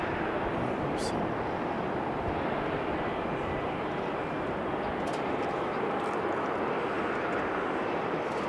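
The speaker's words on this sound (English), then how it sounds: "Here comes British Airways" A British Airways airliner approaching Sydney airport gives a steady, faint broadband engine roar heard from a distance outdoors, with light wind noise and a few brief clicks.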